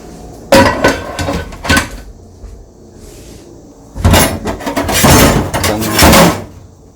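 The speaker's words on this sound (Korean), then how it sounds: "프라이팬 치우고" Frying pan shifted off a kitchen tile surface, heard as close clattering metal knocks and scrapes in two bursts separated by a short quiet gap.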